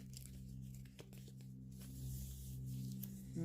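Package of sticker labels torn open by hand, a quiet close crinkling and ripping with a few sharp tearing bursts over a low steady hum, no talking.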